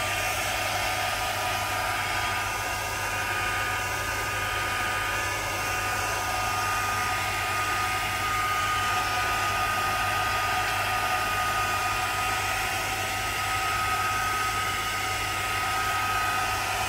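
A hair dryer blowing on a freshly glued coat inside a craft journal, a loud, close, unbroken whoosh with a steady motor hum throughout and no voices.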